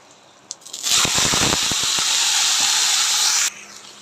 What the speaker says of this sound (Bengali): পটলটাও ভেজে নেওয়া হচ্ছে